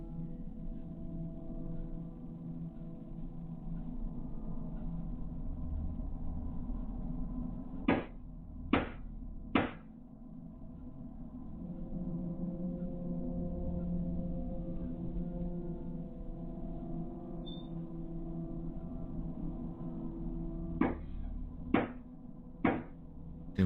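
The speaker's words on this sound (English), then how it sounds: "Damn, that's some loud knocking." Loud knocking at night inside a house: two separate bursts of three sharp, evenly spaced knocks, heard over a steady low hum with no talking.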